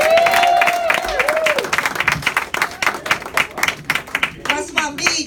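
A comedy club audience in West Palm Beach breaks into loud applause and cheering to welcome a comedian to the stage, the clapping thinning into scattered claps as a voice rises over it.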